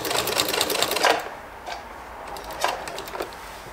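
A sewing machine stitches the seam of a homemade baby blanket, a steady close whirring run for the first second, then several short bursts of stitching separated by pauses.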